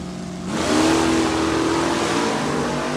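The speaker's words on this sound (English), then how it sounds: "Mark Gilstrap in the Camaro, factory stock B for Mark, ready to go" Camaro factory stock car at a drag race, its engine roaring up loudly after a brief idle and holding a steady high-revving wail at full throttle.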